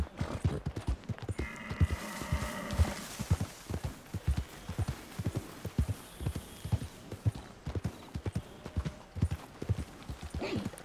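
Horse hooves gallop in Red Dead Redemption 2, a fast steady clip-clop rhythm of close, sharp thuds running throughout, with a brief whinny-like tone early and faint ambient sounds around it.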